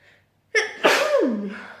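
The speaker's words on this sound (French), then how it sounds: "j'ai encore envie d'éternuer, je suis désolée" A woman's single close sneeze, a sharp burst after a short inhale, trailing off into a breathy sigh.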